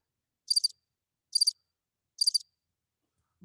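Crickets chirp in three evenly spaced, high, pulsing trills about a second apart, clear and isolated against silence.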